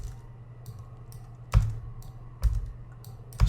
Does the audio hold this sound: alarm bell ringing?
no